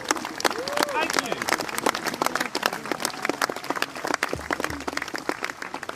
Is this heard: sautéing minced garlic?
no